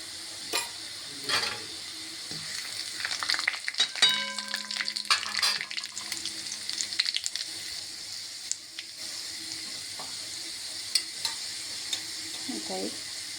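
Mustard seeds and cumin sizzle steadily in hot oil, with scattered sharp pops and crackles rising over a dense frying hiss, close up and without any voices.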